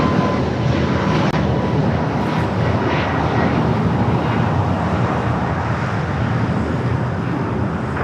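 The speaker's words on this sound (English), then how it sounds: "Now finally take it off. The 737 MAX 8." Boeing 737 MAX 8 jet taking off at LAX, a loud, steady broadband roar of jet engines that holds level throughout with no talk over it.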